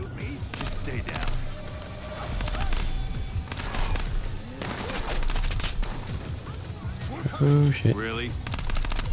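Gunfire in the stealth shooter Splinter Cell: Blacklist crackles in rapid bursts and scattered single shots throughout, loud and close, while a player talks briefly over the action.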